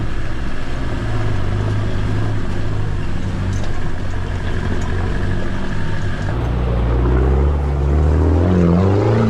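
A Land Rover fitted with a Demand exhaust, driven off-road, gives a loud, steady engine drone that shifts in pitch near the end, with no voices.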